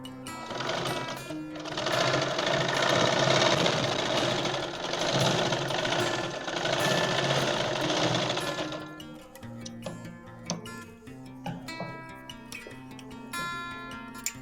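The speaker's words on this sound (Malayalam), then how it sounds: "ഒന്നും കൂടെ സ്റ്റിച്ച് ചെയ്യാം." A sewing machine stitching a straight pant runs in a loud, continuous mechanical whir for about nine seconds at close range. It then stops, leaving scattered clicks and handling taps.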